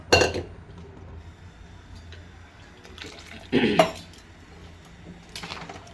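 Metal pressure cooker clanks and scrapes with bursts of splashing water as it is swirled and rinsed, quieter gaps between the clatters.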